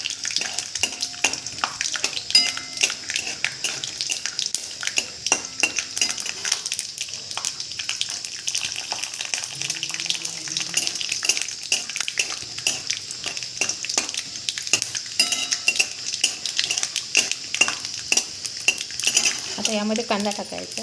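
Mustard seeds and peanuts fry in hot oil in a kadhai for kanda poha, with continuous crackling sizzle and repeated metal spoon scrapes and clinks against the pan, close and fairly loud without talk.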